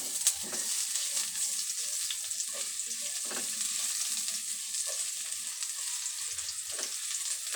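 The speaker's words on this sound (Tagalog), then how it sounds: "So, igisa na po natin ang bawang." Garlic frying in a pan, a continuous bright sizzle with scattered crackles and pops from spattering oil, close and steady, with no talk.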